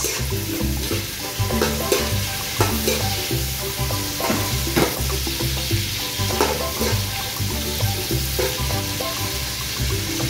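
Chopped onion sautés in a hot pan for a stingray dish, a loud continuous sizzle with steady scraping stirs, fairly close and with no talking over it.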